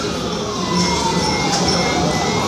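A wailing ambulance siren in Istanbul sweeps up and down at a steady, fairly loud level, heard from some distance outside with a constant background roar.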